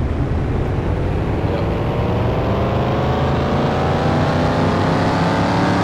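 A junkyard Mustang's engine roars steadily under load through a third-gear dyno pull in a car-mechanic video game, a loud, continuous drone with pitch climbing slowly across the whole stretch and no talking.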